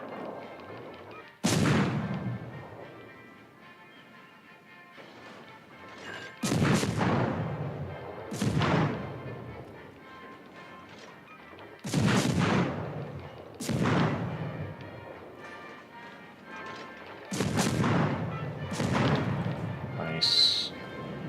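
Heavy naval turret guns boom in repeated salvos from a warship in World of Warships: Legends, six or so loud, deep blasts spaced a few seconds apart, each trailing off in a rumbling decay.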